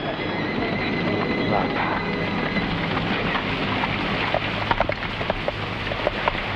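Steady, heavy rain pours down with a dense hiss, and scattered louder drops patter nearby.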